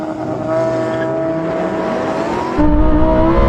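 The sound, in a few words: Lamborghini STO launching at full throttle in drag race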